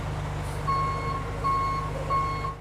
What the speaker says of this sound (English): A tow truck removed this car with a shattered driver's side window from the scene of the deadly shooting early Thursday morning in Orlando